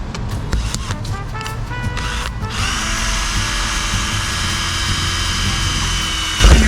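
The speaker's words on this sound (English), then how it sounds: "I'm going to drill through on 80." A power drill bores through a plastic pond tank. Short bursts come first, then a sustained close, loud whine holds steady to a clunk at the end, with no talking.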